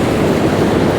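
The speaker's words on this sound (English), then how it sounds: "These waves are coming in." Ocean waves surging into a rocky gully, a loud, near, continuous rush of churning water and foam with wind noise, heard briefly and alone.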